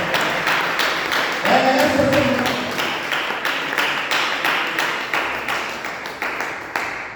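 Church congregation clapping loudly in a steady rhythm of repeated claps, with a short spoken phrase from a preacher partway through.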